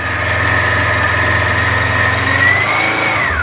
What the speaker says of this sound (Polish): kultura pracy tego silnika, jego taki piękny, zrównoważony dźwięk jest po prostu genialny